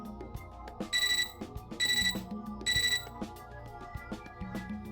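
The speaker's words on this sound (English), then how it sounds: "Our mutual silence is interrupted by my computer terminal's beeping." A computer terminal in the video game Fate/Extra gives three evenly spaced bursts of bright electronic beeping over a soft, continuous game music bed.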